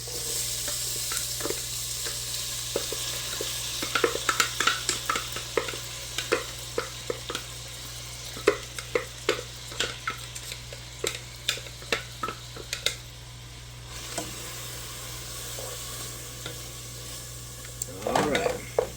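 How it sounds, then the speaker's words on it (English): Onions sauté in melted butter for chicken with gravy, a close, continuous sizzle with bursts of quick scraping and stirring clicks that fade toward the end. "onions into the butter. And then like do a little saute situation."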